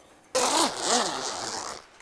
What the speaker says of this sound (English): Finish zipping.